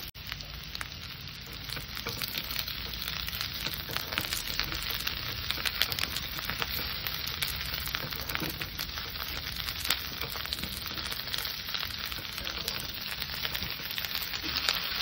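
Mixed vegetables with flat beans and pumpkin frying in a pan, a dense, continuous close sizzle and crackle with faint stirring, steady and loud for the whole stretch, with no talking.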